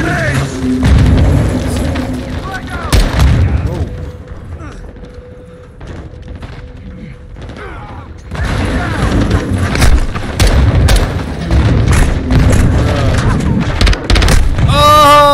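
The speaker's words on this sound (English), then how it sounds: "Incoming! Take cover! They're launching grenades!" Grenade blasts boom repeatedly in a Call of Duty Modern Warfare II campaign battle, loud heavy thuds mixed with gunfire, rumbling debris and shouting voices across a chaotic firefight.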